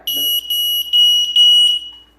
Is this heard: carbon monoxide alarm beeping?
yes